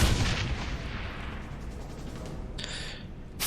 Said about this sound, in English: shoot a grenade